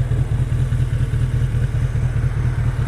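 A motorcycle idles steadily at a traffic light, its low engine rumble close and continuous with no talk.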